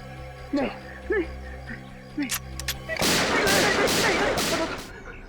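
Muffled voices give way to a rapid burst of loud gunfire in a crime TV drama scene, several shots cracking close together in quick succession.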